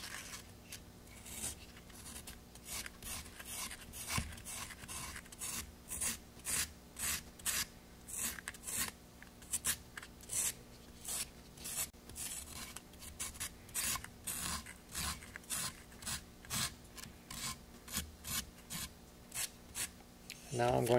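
Wood edges being rounded over with sandpaper on a Saturn V model part, a steady series of close, rhythmic rasping strokes, each a short scratchy burst repeating about twice a second.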